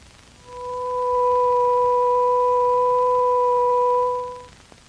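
A steady electronic 500-cycle sine tone plus its second harmonic an octave higher, fading in, holding level for a few seconds, then fading out.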